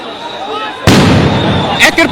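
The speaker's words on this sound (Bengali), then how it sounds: "একের পর এক সাউন্ড গ্রেনেড নিক্ষেপ হচ্ছে এই মুহূর্তে ধানমন্ডি 32-এ" A sharp sound grenade blast erupts suddenly on a street at Dhanmondi 32 and rumbles on, followed by further quick pops, with shouting voices around it.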